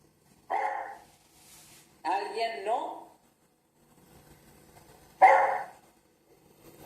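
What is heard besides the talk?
dog barking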